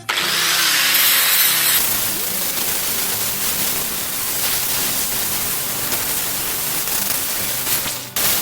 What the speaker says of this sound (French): on va prendre maintenant la disqueuse les amis avec un petit disque abrasif et puis on va surfacer